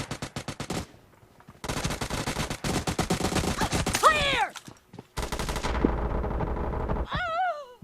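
Bursts of automatic gunfire from a weapon in PUBG Mobile, rapid repeated shots in several volleys with short gaps, loud and close, with a whooshing effect near the end.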